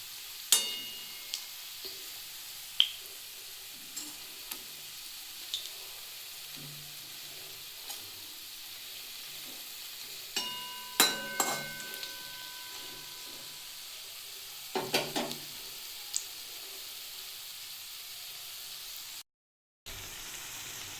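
Quiet, steady frying sizzle of small-shrimp pakoras in oil over low heat, with occasional sharp clinks and stirring scrapes, a brief silent gap near the end.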